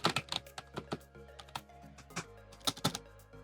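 Rapid, uneven typing on the mushy keys of a Trust Ziva wireless keyboard, a cheap combo set, with clustered soft clacks at close range and a few louder bursts near the end, no voices.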